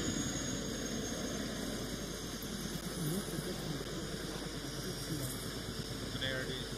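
Helicopter engine in the ArmA 2 military video game, a steady low drone running continuously under faint voices on radio chatter.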